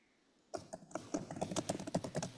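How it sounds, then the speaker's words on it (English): Rapid, irregular clicking of keys on a computer keyboard starts after a short silence and continues steadily, close and fairly clear. "I can hear you typing away"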